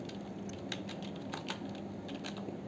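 The word quantity typed into an Excel sheet on a computer keyboard: quick, light key taps in small bursts, close by and fairly quiet over a steady background hiss.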